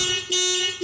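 A Kia Picanto's car alarm, triggered while locking by remote, sounds a loud, steady electronic tone that is broken by two brief pauses, with no voices.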